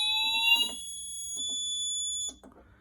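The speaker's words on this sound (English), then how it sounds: "I don't know why that heat detector just re-alarmed again." A fire alarm triggered by a heat detector during a system test, blaring steady electronic tones up close with faint clicks beneath, then cutting off abruptly near the end.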